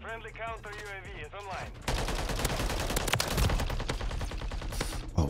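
Rapid automatic gunfire from a Holger 556 rifle in the video game Modern Warfare 3, dense loud bursts of close shots that start after a short stretch of someone talking and run on to the end.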